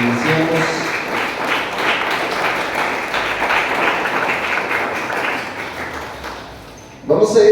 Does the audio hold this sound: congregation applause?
yes